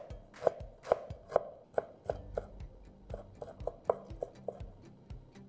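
A knife cutting ginger into thin strips on a board, a quick series of crisp, close taps in an irregular rhythm, with soft speech in between.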